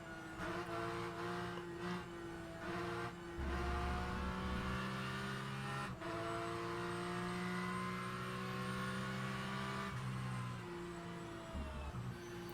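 Porsche race car engine in a Virtual Porsche Cup racing video game at Silverstone, a sustained loud engine whine that rises and falls in pitch through gear shifts, with no talking.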